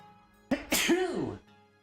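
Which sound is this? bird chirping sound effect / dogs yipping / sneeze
sneeze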